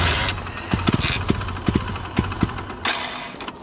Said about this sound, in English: The bike is now starting.